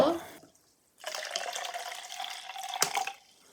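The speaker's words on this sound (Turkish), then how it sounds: "Şimdi ben öncelikle su kabımı su doldurmakla başlıyorum." Water runs into a container from about one second on, a steady hiss and splash at close range that cuts off near the end, after a short burst of speech at the start.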